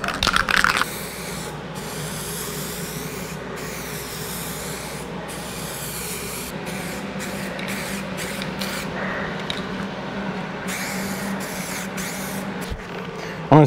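Primer paint hisses from a spray can onto a Firebird bumper, a steady close spray broken into short bursts and pauses, with a louder burst at the start and end and no voices.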